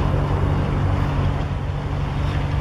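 Continuous low rumble of road traffic near a park parking area, steady and moderately loud, with no distinct passing vehicles standing out.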